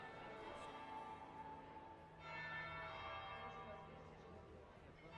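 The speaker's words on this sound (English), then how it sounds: "That would be the second bell." A church bell tolls in Dragon Age Inquisition at a grand party, long ringing tones sustained and overlapping, fairly loud with a renewed strike midway.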